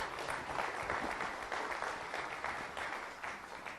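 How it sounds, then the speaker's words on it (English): A seminar audience gives a round of applause after sponsors are thanked, dense steady clapping filling the room and slowly tapering near the end. "Just give them a round of applause."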